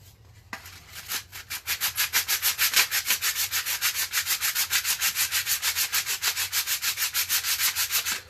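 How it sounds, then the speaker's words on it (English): Steady rhythmic back-and-forth rasping of a sandpaper block rubbing the hard plastic surface of a Nerf gun, close and continuous for several seconds. "So I'm just gonna sand this down."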